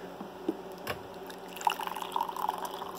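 Hot water is poured from a British 24-hour ration pack setup to make tea, giving a soft trickle and splash that grows busier toward the end, with faint clicks and handling noise and no talking.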